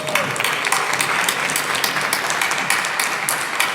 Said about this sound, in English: A big round of applause for everyone who presented.